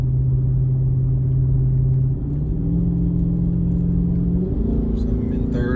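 Revving of a car fitted with an aftermarket no-drone exhaust, heard from inside the cabin: a steady low drone that steps up in pitch twice as the revs climb, loud and continuous with no talk.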